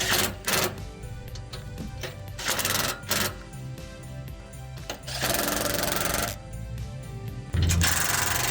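A ratcheting wrench with a 19 mm socket tightens the bolts on a Stinger Stubby front bumper on a Jeep LJ, a rapid clicking chatter in repeated bursts with short pauses, fairly close and unaccompanied by speech.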